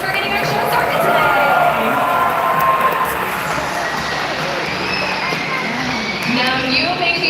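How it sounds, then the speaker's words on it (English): Large crowd of spectators at a dolphin show, a loud, steady wash of clapping and cheering, with a voice talking over it. "How about a round of applause for all 6 of our male dolphins for getting our show started today?"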